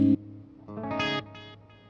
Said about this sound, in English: You can hear that it's modulating a little bit.